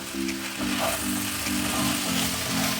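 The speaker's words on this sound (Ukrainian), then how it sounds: "Смажимо до тих пір, щоб жидкость з капусти вся вийшла." Loud, continuous sizzling of young cabbage frying in a pan, close up, with a low steady hum underneath.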